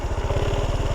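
A motorbike engine idles close by in Vietnam, a steady low chugging pulse repeating evenly throughout the brief moment with no other sound over it.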